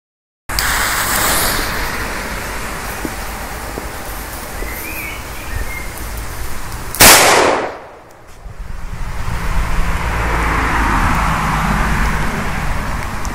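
A Di Blasio Elio Zeus firecracker of 0.5 grams with a plastic end plug goes off outdoors: one sharp, loud bang partway through, followed by a brief hush and then steady wind-like background noise.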